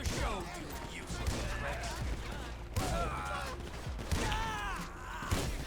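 Gunfire in the video game GTA V, fired in scattered sharp bursts over a steady game soundscape, with a voice talking through most of it.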